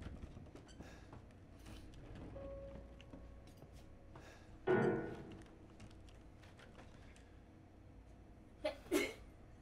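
A single sneeze sounds in a quiet room during a Resident Evil 7 Biohazard game, then a few faint breathy sounds follow, with light ticking and clicks in the background.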